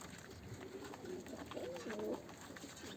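Pigeons cooing softly in a small group inside a coop, their low rounded calls rising and falling over a steady background hiss.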